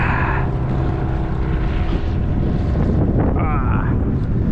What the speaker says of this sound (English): Bit of wind there.